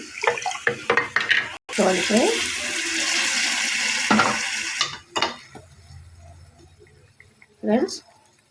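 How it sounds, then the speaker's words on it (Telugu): Water poured from a container into a pot of bottle gourd and mutton curry, a continuous splashing rush lasting a few seconds, with a person talking before and after and light stirring and clinking around it. "ఫ్రెండ్స్ మనం ఇలా వాటర్ వేసేసుకొని"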